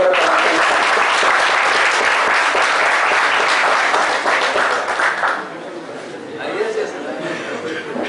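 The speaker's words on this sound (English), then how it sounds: "A great round of applause" An audience at an indoor Teachers Day celebration breaks into loud, sustained applause that fades into lighter scattered clapping and murmuring chatter after about five seconds.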